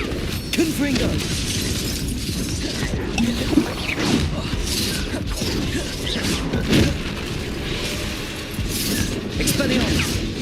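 Confringo explosion spells are cast repeatedly during a hectic Hogwarts Legacy duel. Booming blasts and crashing impacts recur every few seconds over a dense, continuous layer of combat noise and mechanical clatter.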